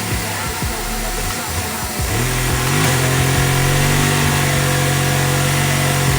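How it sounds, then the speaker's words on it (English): Small Lego model engine driving a gearbox in a truck build, a loud continuous whirring buzz that rises in pitch and settles into a steady high-revving drone, close and alone. "The gearbox still needs a little tuning because the engine reached max horsepower and max RPM."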